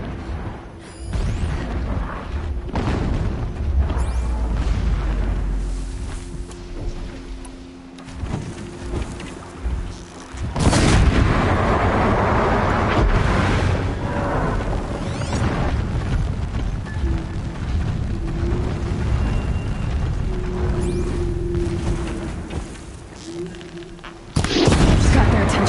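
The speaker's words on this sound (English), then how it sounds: "Explosions in the distance." Distant explosions in the video game Horizon Zero Dawn, deep booms and rumbling blasts rolling through the game's ambient soundscape, with a sharper, louder burst near the end.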